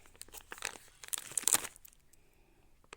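A plastic shopping bag crinkles and rustles close by in irregular bursts, loudest in the middle, then fades to quiet handling.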